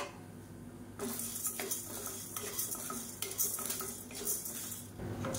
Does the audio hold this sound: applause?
no